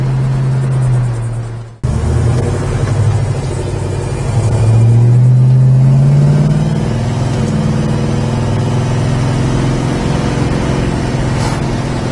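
A 1965 Pontiac GTO's engine drones steadily from inside the car as it drives, with a brief dropout early on, then a rising surge as it accelerates before settling into an even cruise.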